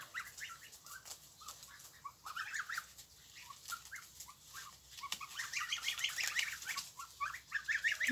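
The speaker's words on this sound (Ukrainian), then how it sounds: "Гусики." Geese and small goslings eating plantain make busy, overlapping cackles and chirps, close and continuous, with no talking.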